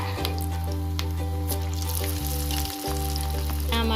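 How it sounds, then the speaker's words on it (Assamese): Onion pakoras sizzling steadily in hot oil in a kadai over a low flame, a continuous close, loud frying hiss with bubbling crackle, no voices. "আকৌ মই ইয়াতে এতিয়া পিঁয়াজৰ পকৰি এই তেলতে বনাম।"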